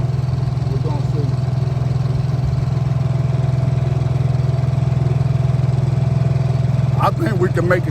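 A 7 hp four-stroke outboard engine from Amazon runs steadily on a small fishing boat out on the water, a constant loud mid-pitched drone throughout, with a voice briefly over it near the end.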